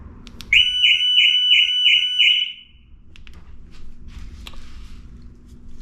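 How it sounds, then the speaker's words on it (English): An Audi S5 alarm set off by the panic button gives one loud, warbling electronic siren burst lasting about two seconds, then stops, leaving faint shuffling and quiet background noise. "press the panic button and see if it does alarm go off"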